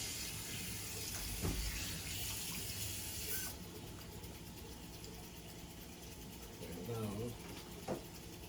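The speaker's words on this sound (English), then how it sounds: "You wash my hands. Get this sticky dough off my hands." Tap water runs into a kitchen sink as sticky cookie dough is washed off hands, a steady broadband rush that cuts off partway through, followed by quieter handling and splashing.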